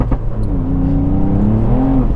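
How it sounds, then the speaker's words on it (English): Tuned 265bhp Mk8 Ford Fiesta ST accelerating hard in third gear with the wheels spinning up, the engine note climbing in a loud, steady, rising drone from inside the cabin. "we're spinning up in third gear"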